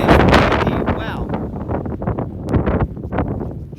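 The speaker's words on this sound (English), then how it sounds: "Jeez, that gust of wind." Strong gusts of wind buffet the microphone in an exposed spot at Red Rock Canyon, a loud, continuous roar and rumble that surges and rustles with no break.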